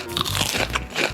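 Crunchy eating in a Roblox mukbang game, a quick run of crisp bites and crackling chews heard up close over roughly a second.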